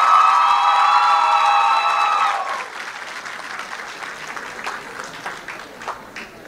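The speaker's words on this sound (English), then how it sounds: "Another round of applause for Ecumenical Junior College." Debate final audience in Belize claps and cheers for the Ecumenical Junior College team, with loud shouts and whoops at first, then thinning to scattered claps.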